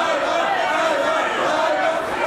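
A dense, partisan wrestling crowd roars steadily in an arena during a women's match, a loud continuous wash of cheering and chatter with no clear breaks.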